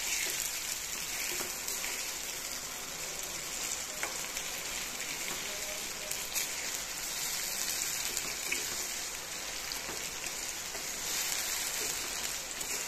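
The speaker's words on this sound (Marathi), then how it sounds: "याला परतून घेऊया।" Chilli paste for Schezwan sauce sizzles steadily as it is sautéed in a pan, a continuous soft hissing crackle with faint ticks, quiet and unbroken with no talking.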